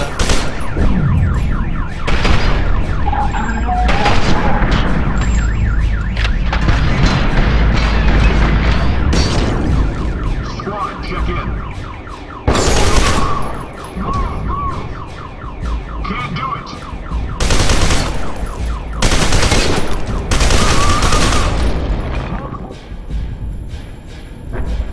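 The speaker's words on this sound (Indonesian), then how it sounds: "Ledakan lagi guys." Explosions and heavy gunfire from the horror shooter game FEAR 2 in a tunnel level, with loud booms and crackling bursts repeating over about 25 seconds against a continuous dense rumble of game noise.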